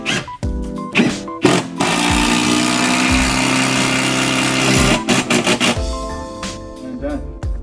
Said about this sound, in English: Put our last screw right in here.